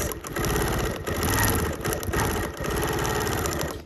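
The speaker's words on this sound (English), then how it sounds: "So I'm just gonna stitch around these elements." A sewing machine stitches around the elements of a collage quilt with a steady, fast mechanical whir. Its motor hum runs close and continuous, with brief dips in speed and no voices.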